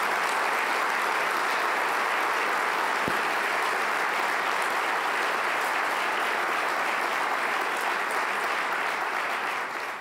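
Steady applause from an audience at a Board of Trade of Metropolitan Montreal speech, honoring Pierre-Marc Johnson, continuing loud and unbroken for the full stretch before tapering slightly at the end.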